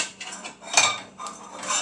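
An aluminum-foil-lined cookie sheet is handled in a kitchen, giving a few light metallic clinks and scrapes, quiet and close, with no talking.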